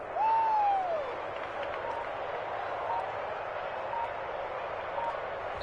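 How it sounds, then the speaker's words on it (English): Home crowd applauding in the Madden 21 football video game after a Panthers–Ravens matchup, a steady broad wash of clapping and cheering that holds evenly throughout, with a brief whistle-like tone near the start. "And the home crowd applauding."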